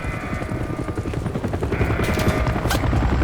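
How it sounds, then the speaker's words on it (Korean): A helicopter approaches in Call of Duty: Modern Warfare III, a steady loud rotor chop and engine rumble continuing throughout, with gunfire-like bursts and effects layered over it. "헬기가 접근하고 있다"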